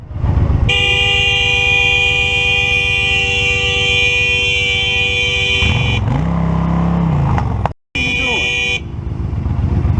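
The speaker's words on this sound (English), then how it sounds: "The rider lays on the horn, probably just trying to get their attention." A motorcycle rider's horn blares loud and steady for about five seconds over engine and traffic noise, then drops away before a second short honk near the end.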